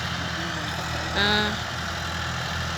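A tractor engine, either a New Holland TT4.65 or a John Deere 5065E, idles with a steady low drone, joined briefly by a higher tonal whine midway.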